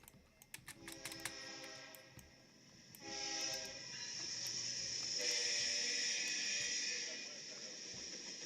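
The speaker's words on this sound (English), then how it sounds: "what were those 2 locomotives at the beginning?" An eastbound freight train's two lead locomotives pass, starting with repeated horn blasts and then a long loud blast over the building rumble of the train rolling by, heard from a trackside spot.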